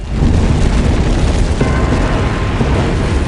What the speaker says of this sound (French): le volcan a explosé.